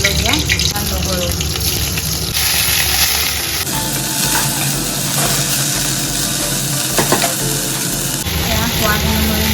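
Dried red chillies and garlic crackle and sizzle steadily in hot oil for a water spinach stir-fry, a loud, close, continuous frying hiss with occasional stirring scrapes and no talking.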